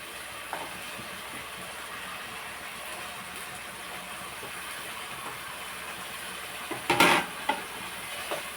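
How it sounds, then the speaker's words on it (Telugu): Taro root (arbi) curry with tomatoes fries in a pan with a soft, steady sizzle throughout, broken near the end by a sharp clatter of stirring or a utensil against the pan. "బాగా వేగనిచ్చి టమాటాలు కూడా మనం వేసేద్దాం."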